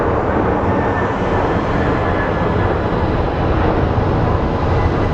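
Airliner passing at Phoenix Sky Harbor airport, a loud, steady broadband engine roar filling the whole stretch without letup, no voices over it.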